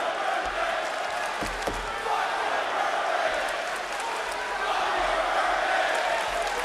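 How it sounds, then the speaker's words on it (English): Wrestling arena crowd at an AEW Full Gear event, chanting happy birthday as a broad, sustained wash of massed voices with rising swells, a few dull thuds and scattered shouts rising above it. "Crowd chanting happy birthday at Les Champions."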